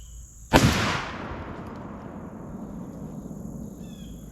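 A gunshot fired at cardboard and cabbage targets on a shooting range: one sharp, loud crack followed by a long fading echo, with no talk.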